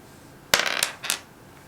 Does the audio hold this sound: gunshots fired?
no